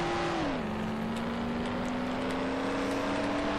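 A steady car engine whir in the video game Mafia that dips in pitch early on and then holds a constant drone, loud and continuous with no talking.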